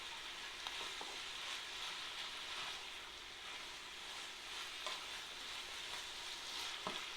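Garlic browns in a pan for beef stroganoff with a continuous, dense sizzle close up and occasional small pops and crackles, with no voices.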